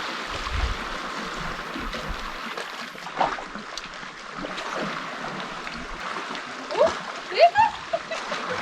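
A hooked pollack thrashes at the sea surface while lure fishing on Orkney, sharp splashes bursting out over lapping water, with the biggest splashes clustered near the end.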